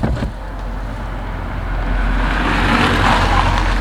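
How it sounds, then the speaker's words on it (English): A Subaru WRX drives past on the street outside, its engine swelling from a low background rumble into a louder, steady roar toward the end. Nobody speaks. "Hey, it's a WRX from down the street"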